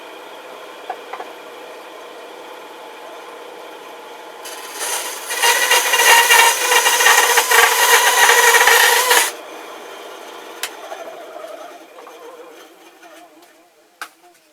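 Sawing or rasping through wood on a ventriloquist dummy's head to trim room for the mouth piece: a steady, dense scraping burst of about five seconds in the middle, with quieter handling and faint knocks before and after.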